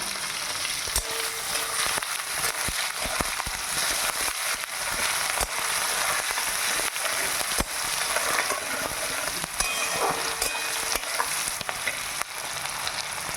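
Chopped onions fry in a pan for a soybean coconut curry, a loud steady sizzle and crackle with occasional stirring scrapes running throughout.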